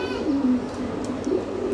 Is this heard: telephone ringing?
no